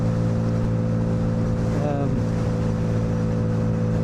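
A Lexmoto Vendetta 250cc motorcycle on the move gives a steady, droning engine hum under constant wind rush, with a brief rising pitch change midway, close and continuous throughout.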